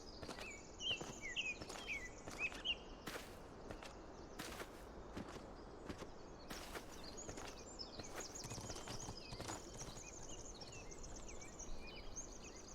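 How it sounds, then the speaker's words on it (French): Horse hooves clip-clop in the video game The Talos Principle 2, an irregular run of quiet, sharp knocks over soft ambience with chirping birds. "c'est un cheval qu'on va entendre là"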